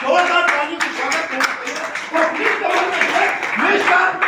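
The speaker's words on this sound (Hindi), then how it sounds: "ऐसी पर्सनालिटी के लिए जोरदार ताली से स्वागत" An audience claps to welcome a speaker at a seminar in Tiwari Palace, Nagod, Satna, with bursts of applause under a man's loud, continuous voice addressing the hall.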